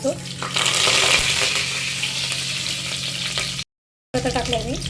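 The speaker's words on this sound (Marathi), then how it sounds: "तेल घेतले मी इथे गरम झाला तर टाका जिरं मोहरी हिंग टाका" Cumin, mustard seeds and asafoetida sizzle loudly in hot oil in a home kitchen, a steady crackling hiss that runs for several seconds, cuts off briefly, then resumes.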